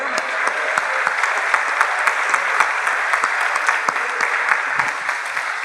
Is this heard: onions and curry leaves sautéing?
no